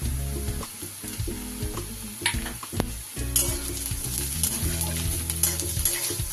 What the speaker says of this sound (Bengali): এগুলো সব আমি খুব ভালো করে তেলের মধ্যে ভেজে নেব